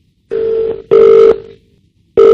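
Touch-tone telephone dialing a call: three loud, clean electronic tone bursts, each about half a second, with a steady gap between the first two and a longer pause before the third, heard alone.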